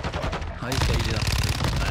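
Rapid gunfire from a shooter in the video game Warzone 2, dense crackling bursts running loud and continuous through the clip with a sharper onset partway in, mixed with game noise.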